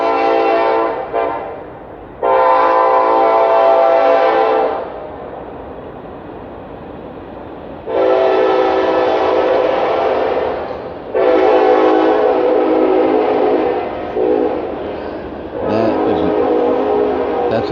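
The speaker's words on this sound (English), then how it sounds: "Wait till the whistle goes by." A passing train sounds its whistle in four long, drawn-out blasts with short gaps between them. It is loud and fairly close, with no talking.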